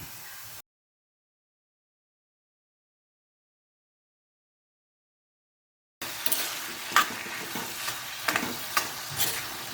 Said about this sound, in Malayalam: അപ്പോൾ നമുക്ക് ഇനി ഇതിലേക്ക് ഇറച്ചിയിട്ട് വരട്ടി കൊടുക്കാം